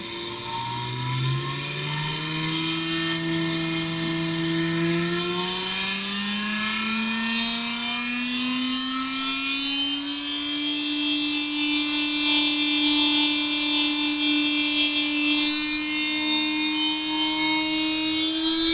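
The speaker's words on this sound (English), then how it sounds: "do not stand close to the rotating open rotor with high RPM." A simple brushless three-phase motor spins an open rotor up to very high RPM, giving a loud continuous whine whose pitch climbs steadily and then holds, with no voices.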